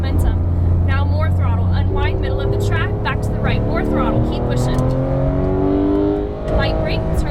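A Porsche 911 GT3 engine revs hard as the car accelerates around a race track, its pitch climbing through the gears with a loud, close and steady roar. A voice talks over it.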